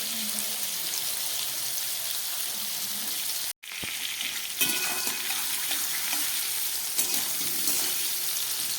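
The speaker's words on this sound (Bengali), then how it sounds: "কুমড়োটা অনেকটাই ভাজা হয়ে গেছে" Pumpkin pieces with a little salt fry over medium heat in a pan, making a steady loud sizzle that cuts out for a split second before resuming, with occasional stirring clicks and no talking.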